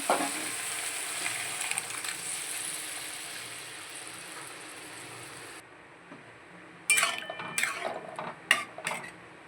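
Boiled chana dal tipped into a pan of hot sweet dal base, with a steady sizzle that cuts out abruptly, then a burst of stirring scrapes and clatters near the end, no talk.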